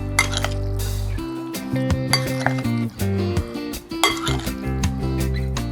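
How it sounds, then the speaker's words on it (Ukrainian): A Georgian salad with walnut dressing is gently mixed in a bowl, and the utensils clink and scrape against the dish in a quick, irregular series of bright, close taps. No voices are heard. "обережно, без зайвих зусиль, щоб не почавити овочі, перемішуємо салат"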